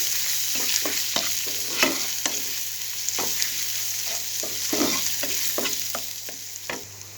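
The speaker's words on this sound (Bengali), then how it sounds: "এবার এটাকে আমি তেলের সঙ্গে একটু ভেজে নিচ্ছি" Chili and turmeric powder fry in oil while a spoon stirs them, for a banana blossom fritter curry. A steady hiss of sizzling is broken by repeated scraping strokes at an irregular pace, close up, with no talking.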